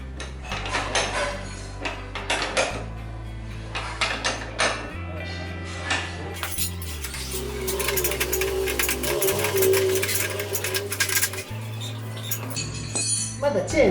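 Tightening work on the rear of a Honda Super Cub motorcycle: close metallic clinks, tool clicks and mechanical rattles in irregular bursts, with a low tonal hum underneath.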